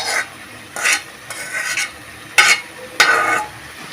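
Spinach chorchori stir-fried in a pan with fried potato and cauliflower, heard as a series of scraping, sizzling stir strokes in uneven bursts, close and moderately loud, with no talking.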